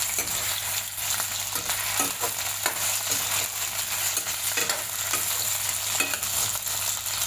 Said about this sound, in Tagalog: nagisa siya ng sibuyas at maglalagay din siya ng patatas